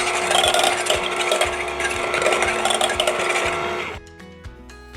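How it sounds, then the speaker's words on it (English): Four large eggs being beaten smooth for matzah ball soup, heard as a loud, busy whirring and rattling of a mixing device that runs steadily, then cuts out abruptly near the end. "Started off with 4 large eggs, and I'm going to beat them slightly so that it's nice and homogeneous"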